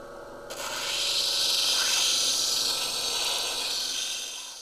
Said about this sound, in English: now we're going to use the wheel to cut this down and make it into the pear shape